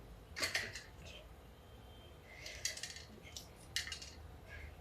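A knife slices a capsicum into big pieces, giving several crisp cutting clicks in short bursts, close and moderately loud over a low background hum.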